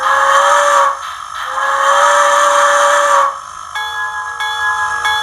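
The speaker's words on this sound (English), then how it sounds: "Of course, I got the whistle." A Broadway Limited cab-forward model steam locomotive's DCC sound whistle blows loudly in two long blasts, then a third tone with a slightly different pitch follows, shriller and steadier.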